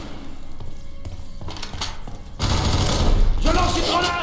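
Gunfire and a grenade blast in the video game F3AR, with scattered shots early and then a loud, dense burst of rapid fire and a heavy thump filling the second half. Some speech is mixed in.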